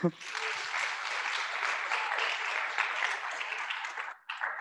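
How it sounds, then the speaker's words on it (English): Applause from attendees at a university student senate meeting, a steady dense wash of many clapping hands held for about four seconds, then trailing off briefly at the end. "Let's give a round of applause."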